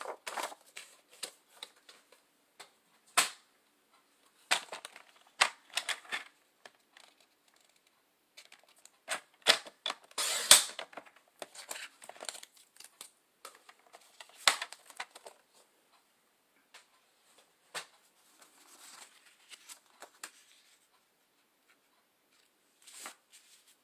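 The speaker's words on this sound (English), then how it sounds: "So I'm just going to cut this little part off on both of these." Scissors cut paper pieces for a Carta Bella Welcome Autumn pocket flip scrapbook album. Scattered crisp snips and rustles come in irregular bursts, close and fairly quiet, with silent gaps between them.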